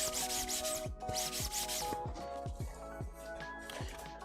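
Heavily used sandpaper rubbed in a steady back-and-forth rhythm gives repeated close, raspy scratchy strokes, with short squeaky sweeps in between.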